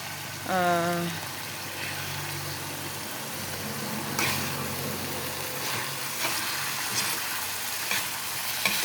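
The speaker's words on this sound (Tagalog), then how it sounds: "Ipakulo muna natin yung suka." Shrimp paste and pork cook with vinegar in a pan, making a faint, steady bubbling sizzle with a few soft stirring knocks.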